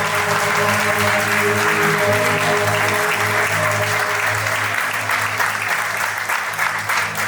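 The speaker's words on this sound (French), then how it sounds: "Est-ce qu'on peut applaudir très fort, comme si on pleuvait, s'il vous plaît?" Guests at a civil wedding celebration applaud loudly and continuously, a dense, rain-like wash of clapping that holds steady throughout with faint crowd murmur beneath.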